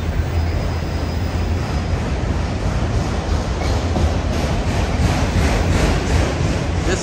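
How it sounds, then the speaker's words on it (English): A long Union Pacific auto rack freight train rolls past Oakland's Jack London Square Station, a loud continuous rumble of wheels and cars with rhythmic clatter close by, one pulled by a single locomotive. "This is the long Union Pacific Auto Rack train."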